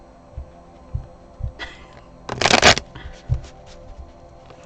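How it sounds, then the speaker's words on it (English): A brief riffle of tarot cards being shuffled, a quick burst amid soft handling thumps and quiet room noise. "Let's shuffle these before we go into cards number 3."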